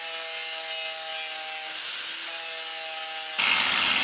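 Steel fender pieces ground down by hand for a custom rear fender on a Harley Davidson Dyna bobber, a steady rasping scrape with a faint tonal ring, briefly pausing mid-clip, then turning rougher and louder toward the end.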